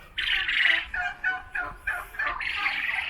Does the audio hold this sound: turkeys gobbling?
yes